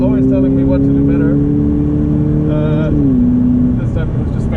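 A Ferrari sports car cruising on the Fiorano test track during a cool-down lap, its engine a steady, close droning hum that dips in pitch partway through, with someone talking over it in the cabin.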